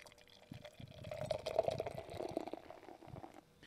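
Pabst Blue Ribbon beer pours into a glass, a close, soft stream of liquid gurgling and fizzing that builds in the middle and tapers off, with no talking.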